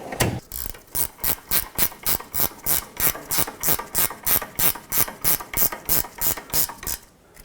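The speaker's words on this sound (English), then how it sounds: "I'm gonna have to use a ratcheting wrench this time" Ratcheting wrench tightening a sway bar link on a 2004-2008 Acura TL front suspension: close, loud, even clicking strokes, about three per second, repeating steadily for several seconds before stopping, no talk.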